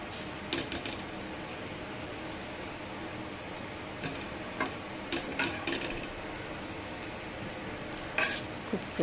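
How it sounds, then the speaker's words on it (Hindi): Dosas cook on a pan, making a faint, steady sizzle with occasional scrapes and light metallic clinks scattered through, and no talking. "देखिए दोस्तों, डोसे मेरे बन रहे हैं"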